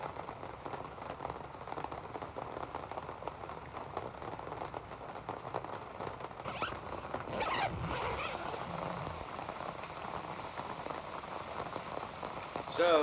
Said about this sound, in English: we got about 3 inches of rain in just a few hours